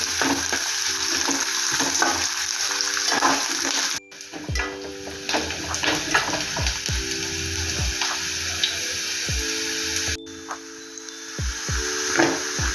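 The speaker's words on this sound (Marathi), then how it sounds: "तर बघा कांदा आता चांगला तळलेला आहे फोडणीमध्ये" Onion and bay leaf sizzle steadily in hot oil for a tempering, with scattered stirring knocks and clinks of a spoon against the pan throughout, fairly close; no talking.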